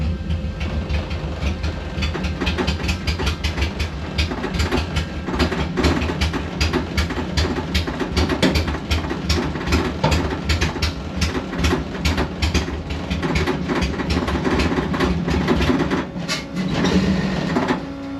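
A VW Bus fitted with a Subaru engine idles nearby, a loud, steady, rapid rhythmic chugging and clatter that holds throughout with no talking.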